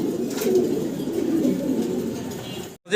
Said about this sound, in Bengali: দোবাস দোবাস হাই ফ্লার কবুতর